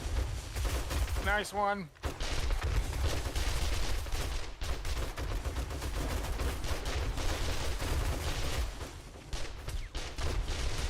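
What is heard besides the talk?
gunfire shooting zombies in the video game 7 Days to Die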